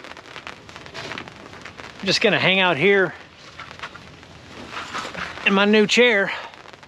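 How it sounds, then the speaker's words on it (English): Steady rain patters on a rooftop tent at a campsite, a constant soft hiss that runs under someone talking nearby. "It is raining now"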